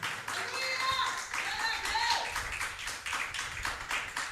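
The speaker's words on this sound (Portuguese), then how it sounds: "Dá uma salva de palmas para Jesus, igreja" A church congregation claps at a worship service, with a patter of hands running throughout over murmur and a few raised voices.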